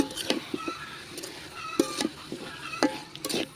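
Potatoes being stirred into a chorchori of radish and dried mola fish frying on a clay stove outdoors in a garden: repeated close scraping and clinking strokes of a spatula against the pan over a soft sizzle.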